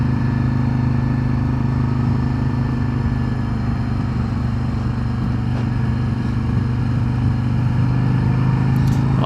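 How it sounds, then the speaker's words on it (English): A stock Harley-Davidson Street Glide motorcycle cruises along the road, its engine giving a steady, continuous low drone with wind rush throughout, close and loud with no pauses. "to be stock, these bikes sound pretty good still"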